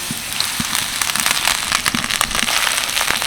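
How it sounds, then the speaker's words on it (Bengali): Drumstick leaves and grated coconut sizzle steadily in a hot pan, with a dense crackling hiss and occasional soft knocks from stirring, close and fairly loud. "নারকেল দিয়ে একটু নেড়ে চেড়ে নিলাম এবার আমি দিয়ে দেবো সজনে পাতাগুলো"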